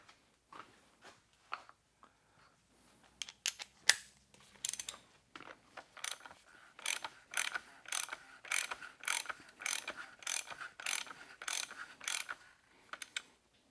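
A 24 mm wrench ratchets a bolt on a BMW N62 V8 engine during an oil change, giving rapid bursts of close, crisp clicking that quicken into a steady rhythmic series, with no talk.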